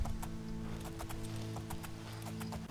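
Horse hooves clip-clop in Oblivion as a mount climbs a slope, a steady run of sharp near hoofbeats over a constant low ambient hum.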